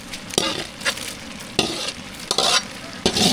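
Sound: tempering sizzling in a pan for snake gourd kootu

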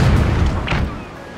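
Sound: cannon firing chain shot at ship, from video game The Pirates! Empire 2 mod

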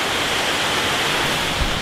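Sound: waterfall at a memorial fountain

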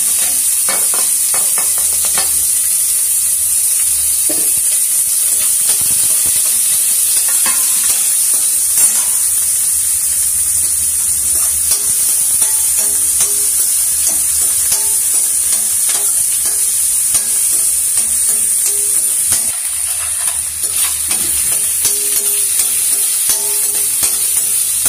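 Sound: chopped onions frying and stirred in pan

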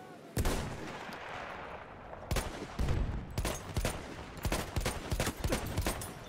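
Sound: gunfire in the video game Battlefield 1

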